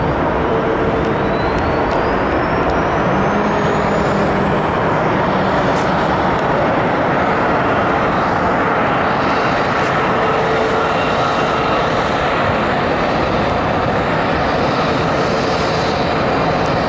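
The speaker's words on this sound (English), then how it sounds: "Got a 737-800 with the, or Max 8, excuse me, with American Airlines inbound from Cancun." An American Airlines Boeing 737 MAX 8 jet airliner arriving from Cancun roars loudly and steadily at close range, a dense broadband engine rumble with a rising whine running throughout.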